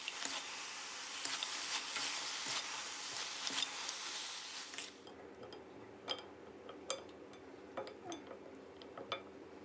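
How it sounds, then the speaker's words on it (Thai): Chicken with cashews and fried green onion being tossed in a pan, a loud steady sizzle for the first half that drops away, followed by scattered light clinks and taps of a utensil against the pan. "ให้เราใส่ต้นหอมหั่นทอดลงไปเลยครับ แล้วก็คลุกเคล้ากันเล็กน้อยนะครับ"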